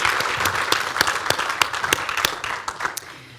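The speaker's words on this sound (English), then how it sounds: "Let's give them a round of applause." A small audience at a symposium on curating Native American art breaks into applause, with scattered claps ringing out close and clear for a few seconds before tapering off.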